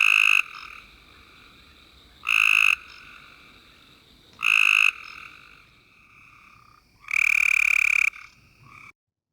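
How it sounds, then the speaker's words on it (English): A Cope's gray tree frog calls in four loud, explosive bursts of fast trilling, each about half a second to a second long and separated by quieter pauses, with no voices. "the call is an explosive, prolonged trill like the gray tree frog, but it's faster paced"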